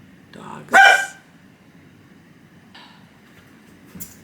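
A dog gives a single loud, close bark, followed by a fainter yip or two in an otherwise quiet indoor room.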